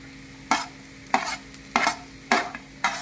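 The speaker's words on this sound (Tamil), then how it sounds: "நம்ம இப்போது கட் பண்ணி வச்சுக்கிற சப்பாத்தி நம்ம அதில் போட்டுடணும்" Cut chapati pieces frying with egg in a pan for egg kalakki chapati, five evenly spaced scraping stir strokes over a faint sizzle, close and clear without talk.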